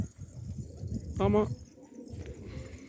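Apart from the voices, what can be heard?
pigeon cooing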